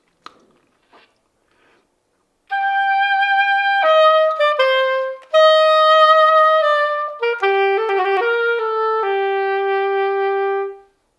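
A solo oboe plays a flowing phrase of sustained notes, swelling slightly and then tapering, after a few faint taps at the start.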